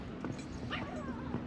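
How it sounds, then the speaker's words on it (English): A dog on an autumn street in Edinburgh gives a few short whimpers and yips, fairly faint against steady outdoor background noise. "Oh, what the hell was that? Oh, it's a dog."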